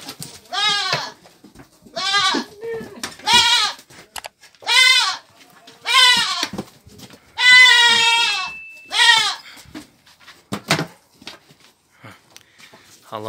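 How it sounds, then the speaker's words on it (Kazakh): Young Anglo-Nubian buck kids bleat loudly and close by, about eight separate calls in a steady series, each a wavering, nasal cry. Soft shuffling and sniffing fill the short gaps, and it grows quiet toward the end. "Өте жақсы лақтар."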